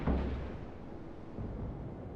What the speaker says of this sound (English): I love the sound of torpedoes hitting battleships.